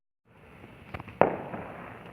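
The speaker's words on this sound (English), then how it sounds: "Don't mind the explosions in the background" Fireworks go off in the background at a fireworks test, a few sharp pops followed by one louder crack with a rolling tail, at moderate distance and with no talking.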